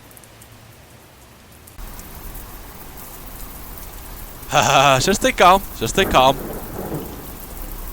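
Rain and rolling thunder in a video game, a steady wash of rain with a distant thunder rumble, while a voice speaks briefly and cries out near the end.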